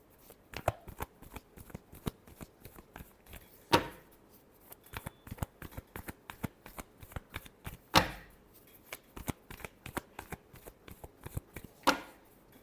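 Tarot cards being shuffled in a steady run of crisp riffling slaps, with three louder snaps where the deck is squared or cut, close and alone with no talk.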